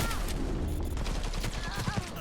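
Sniper rifle shots in the game Cyberpunk 2077 crack out among a dense, busy barrage of gunfire, with a voice speaking over the shooting.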